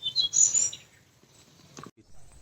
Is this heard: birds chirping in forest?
yes